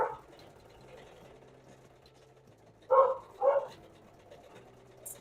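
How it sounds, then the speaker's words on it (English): Two dogs bark indoors in a house, two short close barks about half a second apart over quiet room tone, with a fainter yelp at the start. "I'm about to put these dogs outside."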